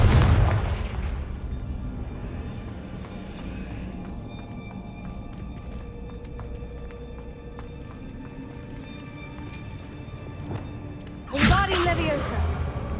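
Fire-blast spell explosions in the game Hogwarts Legacy burst out as deep booms, heaviest at the start and again near the end, over a rumbling, crackling game soundtrack with spoken voices present.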